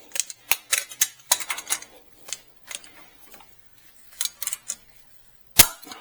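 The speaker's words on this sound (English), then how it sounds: "So I'm just going to take my torque wrench" A torque wrench on an outer tie rod nut of a GMC truck, producing a string of sharp, close mechanical clicks and ratcheting taps in irregular bursts, ending with one louder snap.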